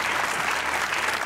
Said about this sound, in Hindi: तालियां होनी चाहिए।